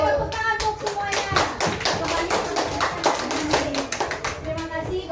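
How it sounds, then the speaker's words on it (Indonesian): Children in a classroom clap for everyone after a food-chain demonstration, brisk rhythmic clapping and tapping close by, steady and lively, with young voices mingling underneath. "Oke, tepuk tangan untuk semuanya."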